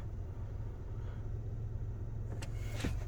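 A 2003 Renault Scenic engine idling, heard from inside the cabin as a steady low hum, very quiet and even, with a couple of brief clicks or knocks near the end.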